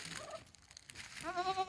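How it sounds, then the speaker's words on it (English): Young ram goats in a small herd bleat faintly in the distance, with one wavering bleat near the end over quiet background noise and no talking. "look at all my beautiful goats."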